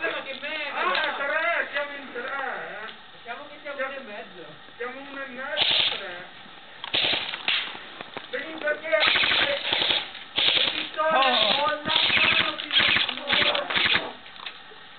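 Rapid bursts of airsoft fire from M4, AK47 and Steyr AUG replicas during an outdoor Italian skirmish game, clattering in fast repeated volleys with players shouting over and between the shots.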